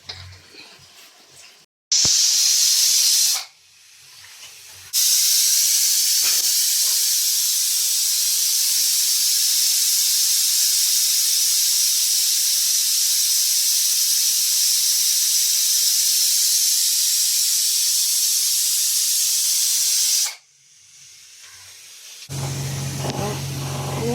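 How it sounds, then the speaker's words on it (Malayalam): A pressure cooker cooking cowpeas whistles, its steam hissing loudly and steadily for about fifteen seconds, preceded by a short burst, then cuts off into quieter kitchen noise. "വിസിലടിച്ചിട്ടുണ്ട്. നമുക്ക് തീ ഓഫ് ചെയ്യാവേ."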